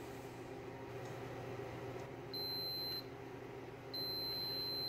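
Two steady electronic beeps from a multimeter continuity test on a Yamaha Raptor 700 ATV's wiring, each lasting about a second, over a constant low hum, with a short gap between them.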